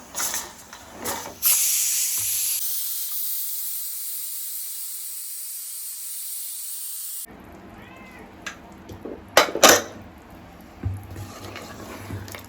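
A long, steady pressure cooker steam hiss rushes for several seconds, then cuts off, followed by clattering kitchen sounds and sharp bursts while cooking gurda kaleji.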